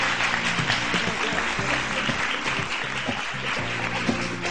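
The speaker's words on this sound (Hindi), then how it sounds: "तालियां तालियां रुकनी नहीं चाहिए।" A studio audience at a Pakistani morning talk show applauds steadily to welcome a guest, a dense, loud wash of many clapping hands that holds without break, with a faint tonal bed of music underneath.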